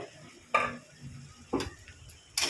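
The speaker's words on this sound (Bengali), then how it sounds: "ঢাকনা খুলে আমরা 2 মিনিট নেড়ে নেব" Stirring a prawn and banana flower curry in a pan, with three distinct scraping strokes of the spoon about a second apart against a low simmer.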